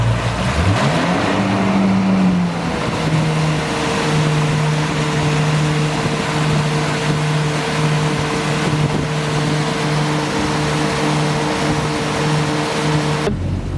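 A 2016 Yamaha 242X jet boat powers up to full throttle, its engine tone climbing quickly in the first seconds and then holding a steady, loud, close drone with wind and water rush beneath, no talk.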